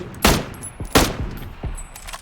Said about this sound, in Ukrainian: по мені стріляють, але я не бачу звідки